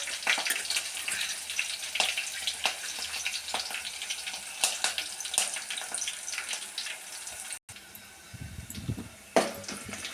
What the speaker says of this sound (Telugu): ఇది మంచిగా వేగాలి.